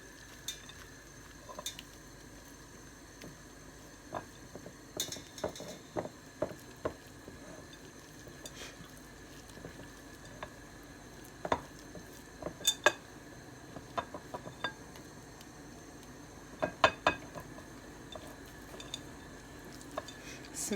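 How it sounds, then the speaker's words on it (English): A spoon works aubergine and raisin loaf dough around a bowl, giving soft irregular scrapes and sharper clinks against the bowl that come in scattered bursts over a quiet background. "I'm going to mix it until it forms a dough."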